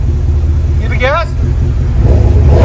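A GMC Sierra AT4 with the 6.2L V8 and Flowmaster exhaust gives a deep, steady rumble that swells toward the end as the throttle opens, with a brief voice over it near the start.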